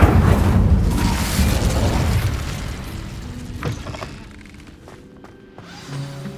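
An Incendio fire spell in Hogwarts Legacy goes off as a heavy booming blast that rumbles and fades over a few seconds, followed by quieter game sounds.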